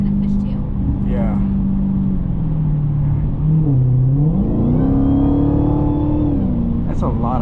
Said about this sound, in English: So that whining is normal. This is supercharged.